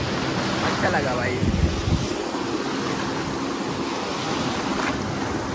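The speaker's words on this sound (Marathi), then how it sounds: "लाटा बिटा मस्त आहेत" Sea waves roll in at Murud beach in Dapoli on the Konkan coast, a steady surf roar with wind buffeting the microphone and someone speaking briefly.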